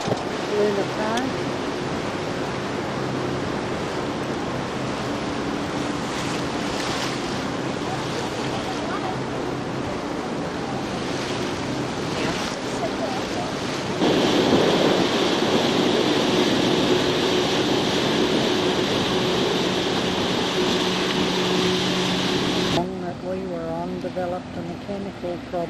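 Ferry ride up the river from Circular Quay on Sydney Harbour toward Parramatta, with steady broadband engine and water rush throughout, a louder stretch midway, and people talking over it.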